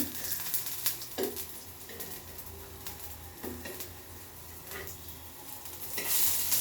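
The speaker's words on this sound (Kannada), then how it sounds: "ಸೊ ಕ್ಲೀನಾಗಿ ಒಂದು ಕಡೆ ಫ್ರೈ ಆದ ತಕ್ಷಣ ಇನ್ನೊಂದು ಕಡೆ ಫ್ರೈ ಮಾಡ್ಕೊಳ್ಳೋಣ" Ridge gourd slices shallow-fry in oil on a tawa, a constant close sizzle punctuated by scraping and tapping as pieces are turned, growing a little louder toward the end.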